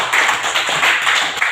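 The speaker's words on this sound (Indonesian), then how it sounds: "Oke, tepuk tangan." A classroom of students clapping hands together during a teaching session, a loud, brisk patter of many claps close by, fairly steady throughout.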